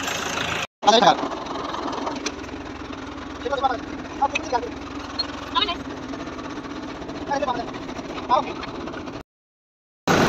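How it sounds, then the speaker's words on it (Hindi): A tractor engine near a farm field rumbles with a steady, close droning idle that holds until an abrupt cutoff near the end, while voices speak over it. "इधर से ये भाई ट्रैक्टर लेके आ रहे हैं।"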